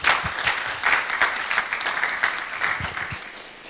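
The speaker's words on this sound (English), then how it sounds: "please welcome Dr. Perry Wardjo with a warm applause" Audience at an international academic conference on Islamic economics and management applauding to welcome a speaker; steady, loud clapping from many hands, continuous and alone, thinning slightly toward the end.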